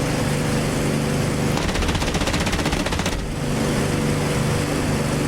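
A 30mm aircraft cannon on a World War 2 fighter fires in DCS, a rapid, loud burst of heavy thudding shots lasting about a second and a half over a constant engine drone.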